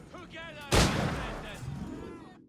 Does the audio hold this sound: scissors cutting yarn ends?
no